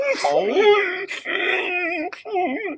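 Young rancor creature whimpering in fear, a high, wavering whine with breaks and rising yelps, close and fairly loud, sounding much like a distressed dog.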